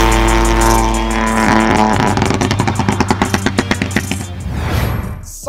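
Remapped Volkswagen TSI engine with downpipe and diffuser, loud and close: a revving rise, then a rapid rhythmic series of pops and stutters from the exhaust, ending in another swell of revs.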